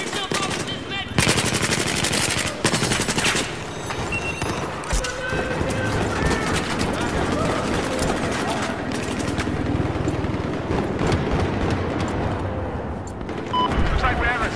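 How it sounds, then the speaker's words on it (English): Battlefield 4 conquest match with rapid, continuous machine gun bursts and scattered gunshots in a constant barrage, heavy booms punctuating it and radio voices talking over the combat. "I have eyes on a hostile machine gunner."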